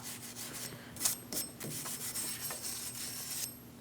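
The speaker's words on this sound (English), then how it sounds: "Using a wire brush, just clean it up, make sure there's no rust." A wire brush scrubs rust off the front brake hub of a 2000-2006 Mini Cooper, producing steady, close scratchy rasping with repeated harder strokes and no talking.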